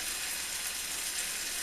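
Pork chops sizzle in a hot, smoking pan, giving a brief, even, faint hiss.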